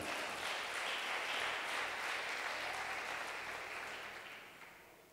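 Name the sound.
applause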